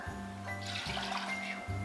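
Water pours into a pot for syrup in short, gentle bursts with a soft splashing rush, faint and close, with no talk over it.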